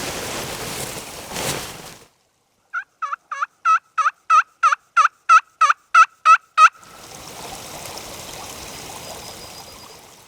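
A wild turkey gobbles in the Appalachian mountains, a single loud, clear rolling gobble of rapid pulsed notes, set between stretches of rushing water or wind noise.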